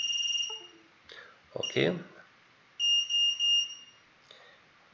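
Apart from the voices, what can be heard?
drone flight controller beeper beeping after save and reboot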